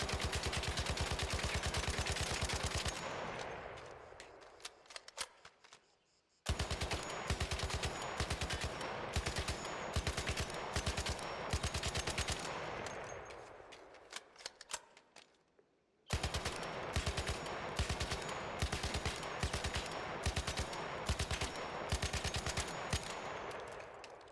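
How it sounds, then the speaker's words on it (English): A Tempest rifle with a muzzle brake and vertical grip fires in the game ARC Raiders. Long strings of rapid, sharp shots come in three loud runs, each separated by a brief silence. "what Tempest really shines in are short, controlled bursts"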